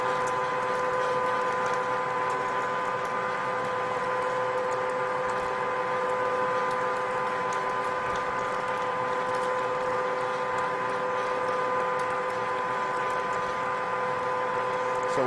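A RIDGID 1224 threading machine threads pipe with a constant mechanical drone and whine, steady and moderately quiet.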